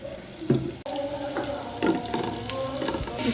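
Onions frying in a pan for a meat khichuri, a bright continuous sizzle broken by several stirring scrapes and clinks, close and fairly loud.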